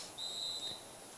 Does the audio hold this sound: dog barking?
no